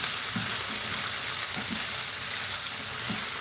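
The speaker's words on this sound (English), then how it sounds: "You can see my potatoes been over here cooking the whole time." Potatoes and onions fry steadily in a pan, a soft continuous sizzle with faint irregular crackles, close and even throughout, no voices.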